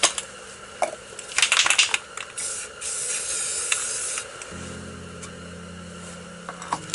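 A spray paint can hisses in short bursts while a desert landscape is painted, with clicks and light clatter of cans, then a low steady hum and a few soft taps.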